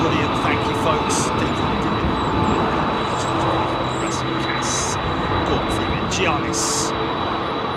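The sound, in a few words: jet engine startup, likely GE CF6, at Heathrow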